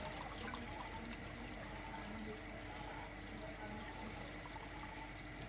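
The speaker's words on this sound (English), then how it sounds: "They seem to enjoy the running water." Faint water runs and trickles steadily into a freshwater swimming pool stocked with tilapia, with a soft continuous splashing.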